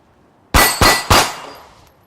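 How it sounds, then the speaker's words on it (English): Three rapid pistol shots striking an 8-inch steel plate at 10 yards, each a loud, sharp metallic clang ringing out, fired in under a second and close by. "So 3 shots on an 8-inch plate, 10 yards in under a second."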